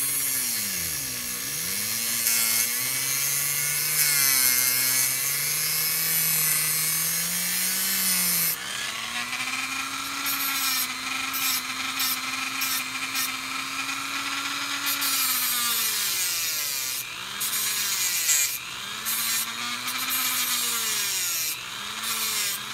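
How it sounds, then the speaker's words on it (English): A Dremel rotary tool grinds the edges of a custom mirror, a close, continuous high whine whose pitch rises and falls as the load changes, with short breaks and gritty abrasive texture throughout. "I'm just going to take my Dremel and kind of start working this."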